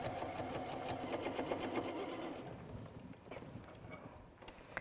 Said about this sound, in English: you're going to sew 1/4 inch seam allowance on those darts